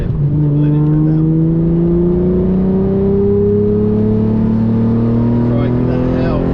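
Lamborghini Murcielago LP670-4 SV V12 engine revving out, a loud, steady rising howl that climbs in pitch over several seconds, heard close from inside the car.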